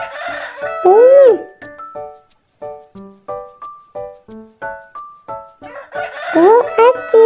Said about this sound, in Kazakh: Бұл әтеш.